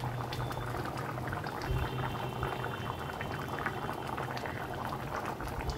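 Hilsa fish curry with taro and potato bubbling steadily on a medium flame, a continuous close boiling and simmering texture that holds evenly throughout without talk.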